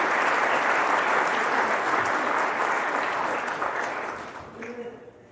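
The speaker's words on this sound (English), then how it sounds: "let's just go ahead and give them a round of applause" An indoor crowd at a graduation event applauds event staff, a dense, loud round of clapping that holds steady, then thins and fades out near the end.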